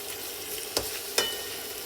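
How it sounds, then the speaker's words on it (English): Ground beef sizzles softly in a pan over medium-high heat, with two quick scrapes of a spoon or spatula over the steady hiss. "So I'm going to fry this up"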